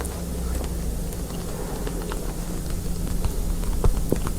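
Soft, rain-like patter in a relaxation setting: steady, close crackling and ticking with scattered sharper taps, continuous throughout with a slight swell near the end.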